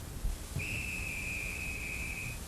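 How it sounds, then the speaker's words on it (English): A train conductor's whistle sounds once as a single long, steady, piercing tone held for nearly two seconds over faint background hiss, with no voices. "Oops, that's the conductor's whistle."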